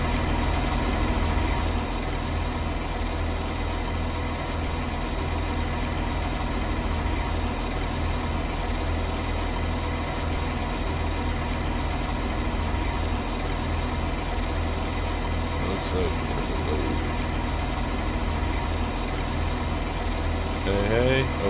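A tractor engine idles in the Farming Simulator video game, a steady low rumble that runs unbroken throughout, with a voice talking over it.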